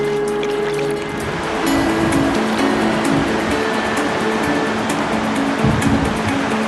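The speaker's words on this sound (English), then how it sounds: "we got a big rapid coming up here" Continuous churning rush of river rapids heard from kayaks, loud and close, with splashes and some faint tonal hum throughout.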